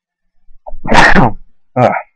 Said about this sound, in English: I'm gonna sneeze in a second.